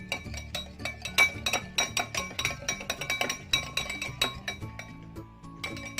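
An egg yolk mixture being whisked hard in a bowl for a fluffy omelette, with rapid irregular clinks and taps of the whisk against the bowl's side running close and steady throughout.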